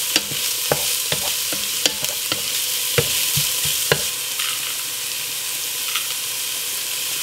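Onions and peppers sizzle steadily in a pan with a constant frying hiss, broken by sharp clicks and scrapes of stirring throughout.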